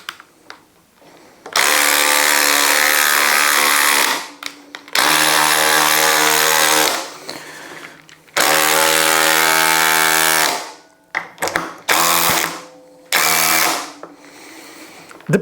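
A DeWALT DCF870 oil impulse driver driving large fasteners in a garage, in several loud, steady whirring-hammering bursts of a few seconds each, separated by brief pauses and clicks.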